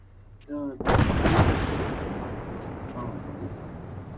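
An explosive charge blows up an oil derrick in the video game ARMA 3: one deep, loud blast after a brief voice, followed by a long rumbling decay fading over several seconds.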